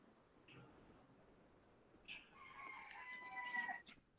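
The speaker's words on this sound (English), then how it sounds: "Was that rooster sound from your house?" A rooster crows in the background during an online meeting, a faint, drawn-out call that rises toward its end, heard alone without talk.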